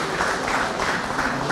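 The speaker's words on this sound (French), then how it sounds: "Donc on peut les applaudir." A short burst of applause from members at a general assembly, dense and steady clapping throughout the brief moment.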